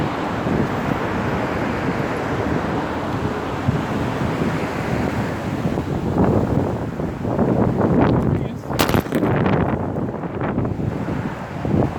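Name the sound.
wind blowing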